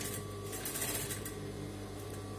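A sewing machine runs steadily, stitching lace onto a thin, delicate silk blouse as part of a restoration, with an even mechanical hum and no talk over it.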